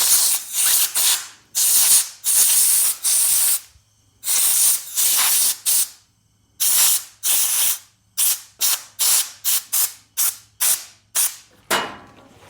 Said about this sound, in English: But we take our compressed air, clean that thing off first.